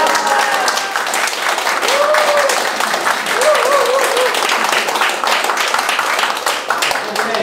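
Loud, sustained applause from an assembly at a citizens' committee launch ceremony, approving the election of a standing chairman, with dense continuous clapping and brief voices calling out beneath it.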